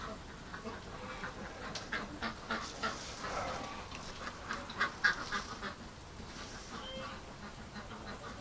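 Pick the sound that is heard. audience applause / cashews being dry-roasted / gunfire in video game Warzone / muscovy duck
muscovy duck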